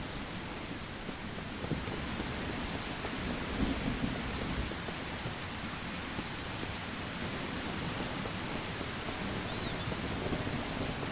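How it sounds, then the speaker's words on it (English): Steady rain and rumbling thunder in the survival video game Mist Survival, a dense continuous downpour with low rolling thunder beneath, heard alone without voices throughout. "Don't think I've ever known the rain to last this long at any one point in this game."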